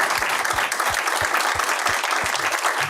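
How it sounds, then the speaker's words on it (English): Lecture audience applauding together, a steady dense round of clapping from a hall full of people, held at an even level for a few seconds without pause. "let's give them a round of applause right now"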